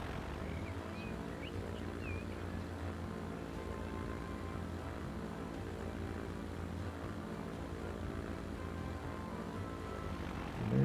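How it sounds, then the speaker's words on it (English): A propeller airplane flying over the English Channel in the Transport Fever 2 video game, a steady droning engine hum that stays even and fairly quiet throughout, with no talking. "It's a beautiful day for a flight, especially one across the English Channel."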